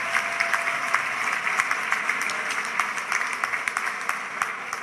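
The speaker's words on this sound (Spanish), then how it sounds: "un aplauso para él, presentador del tiempo" An audience at the Limones Solidarios de Novales charity event applauds a weather presenter with sustained, dense clapping that stays steady and fairly loud throughout, with no talking over it.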